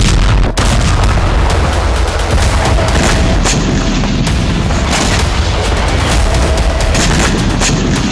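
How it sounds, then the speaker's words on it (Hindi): Zircon and Iskander missile explosions in Ukraine, a loud, dense barrage of deep booms and sharp cracks over a constant heavy rumble. "यूक्रेन में ज़िरकॉन और इस्कंदर जैसी मिसाइलों के धमाके हुए"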